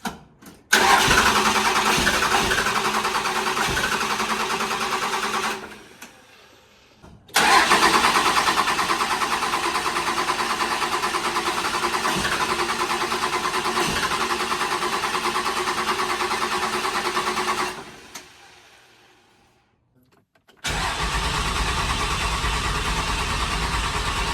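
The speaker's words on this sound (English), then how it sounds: "the truck started and it ran good, and then it ended up dying" A rebuilt Cummins truck engine cranks and starts, runs at a steady loud idle, cuts out, restarts and runs again before fading out once more, close and with no voices.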